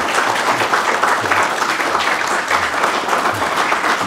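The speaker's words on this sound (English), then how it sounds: "Let's give them a huge round of applause." A full room applauds at a museum's annual meeting, with loud, sustained, evenly textured clapping from many people and no break throughout.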